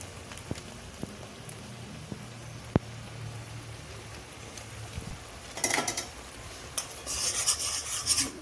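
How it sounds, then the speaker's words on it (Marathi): Penne in a red sauce with chili powder, black pepper, salt and tomato sauce is stirred in a pan, giving soft, intermittent scraping and wet rubbing that grows louder and busier toward the end. "हे सगळं मिक्स करून घ्यायचं व्यवस्थित"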